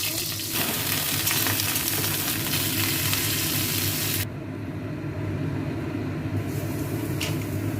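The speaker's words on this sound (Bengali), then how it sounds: "তেল গরম হয়ে গেছে, বেগুনটা দিয়ে" Brinjal slices frying in hot oil, a loud dense close sizzle that drops slightly in level midway and carries on steadily without talk.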